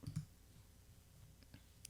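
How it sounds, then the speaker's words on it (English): A computer mouse clicking on an online world map: a quick pair of close clicks at the start, then a few fainter single clicks spaced apart, quiet and without talking. "I'm clicking out."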